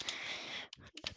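Typing on a computer keyboard, a few quick close clicks of keys after a moment of soft background noise, brief and fairly faint.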